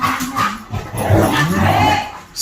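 A dog whimpers and yips in short, uneven bursts at close range, with quiet background sound around it.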